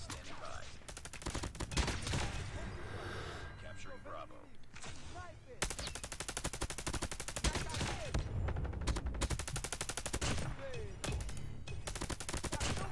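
Rapid bursts of Dingo gun tap firing in a first-person shooter game, sharp repeated shots in clusters with brief pauses, loud and close, with faint game sounds between.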